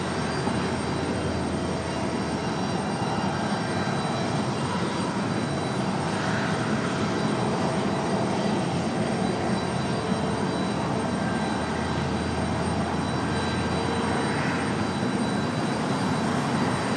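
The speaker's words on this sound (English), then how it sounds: "we'll turn things back up as a part of the departure of the A350 back to" An Airbus A350 departs Raleigh-Durham airport bound for Paris, its engines a loud, steady broadband roar that holds for the whole stretch with no voices over it.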